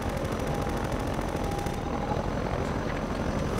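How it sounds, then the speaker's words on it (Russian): A helicopter hovers and circles in the co-op Half-Life 2 game, its steady rotor thump and engine drone filling the scene loudly and continuously, with no voices over it. "За мной летает вертолет"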